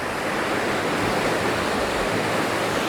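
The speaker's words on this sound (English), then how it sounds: "waiting for these waves to go back out" Ocean waves crashing and receding around a rock on the shore, a continuous broad roar of surf and wash with no voices, steady and fairly close.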